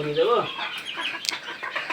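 Laying hens on a small poultry farm clucking and murmuring close by, a short burst of calls followed by softer scattered clucks and a brief sharp note.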